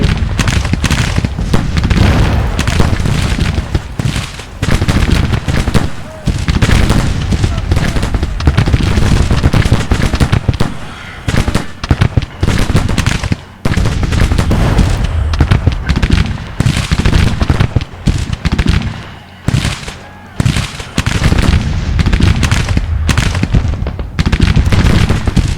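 Artillery and rifle fire in the Civil War game Grand Tactician, a loud, dense barrage of overlapping gunshots and booms crackling almost nonstop, with brief lulls between volleys.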